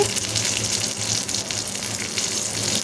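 Mustard seeds, urad dal, dried red chillies and curry leaves crackle in hot oil as a tempering for garlic chutney, giving a steady, close sizzling hiss with a few faint pops.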